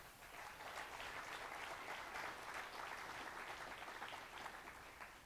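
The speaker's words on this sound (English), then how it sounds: "Let's give them a round of applause." At an evening Life Leadership meeting, a crowd applauds first-time attendees. The clapping is a faint, distant wash of many hands that stays even throughout.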